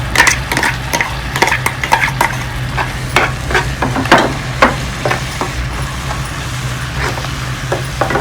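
Tomato puree frying in a pan, a continuous low sizzle broken by repeated clinks and scrapes of a spoon stirring against the pan at an irregular pace, close and fairly loud, with no talk.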